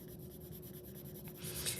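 A purple colored pencil is pressed hard on paper, giving a soft, continuous scratchy rubbing of close strokes. It is quiet and fairly even and grows a little harsher near the end.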